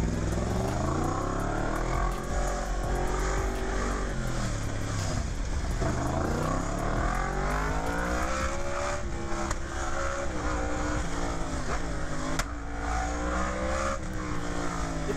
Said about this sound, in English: I like the sound of this bike though, that sounds pretty sick.